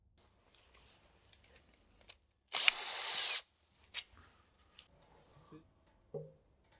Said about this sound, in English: As the next step, we now unscrew the oil pan from the transmission.